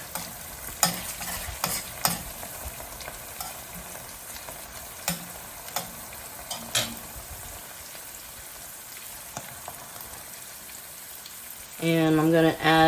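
Butter melts in a pan with a faint, soft sizzle broken by scattered spoon taps and scrapes against the metal; near the end a voice speaks.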